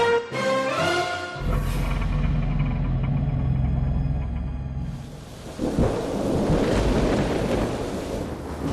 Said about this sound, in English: Moscow was trembling from peals of thunder and lightning